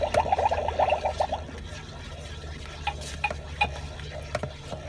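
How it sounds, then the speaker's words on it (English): Magic Mixies cauldron toy being stirred, a quick run of close scraping, swishing strokes for about a second and a half, then scattered faint clicks and taps over a steady low hum. "And then let's stir it up."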